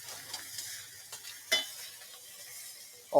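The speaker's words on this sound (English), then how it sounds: "Chuck the steak on, give it a minute or two on each side, flip it, bang, done." Steak sizzles in a hot frying pan, a soft continuous crackle with a few brief scrapes and a sharp metallic clink at the end.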